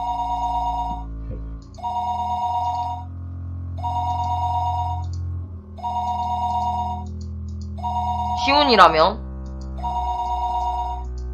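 In the Higurashi video game, a telephone rings in repeated short electronic bursts with even gaps between them, while a voice speaks over it.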